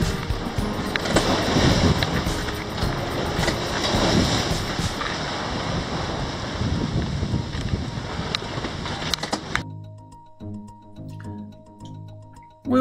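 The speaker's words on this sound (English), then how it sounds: "if you just listen to the sound of the ocean, you can just hear and feel the raw power in the waves" Calm ocean waves wash and splash around a sailboat under way off the Maine coast, with steady wind rumbling across the microphone, until the sea sound cuts away abruptly near the end.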